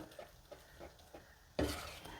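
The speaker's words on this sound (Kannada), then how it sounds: "ಈಗ ಇದಕ್ಕೊಂದು ಒಗ್ಗರಣೆ ಮಾಡಿ ಬೆರೆಸ್ಕೊಳ್ಬೇಕು" Stirring tempering into fermented idli batter: a series of soft, evenly spaced spoon scrapes and taps, then a sudden louder burst of sizzling and mixing that continues to the end.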